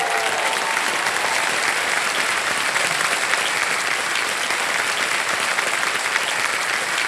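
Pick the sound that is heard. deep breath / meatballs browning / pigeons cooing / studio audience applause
studio audience applause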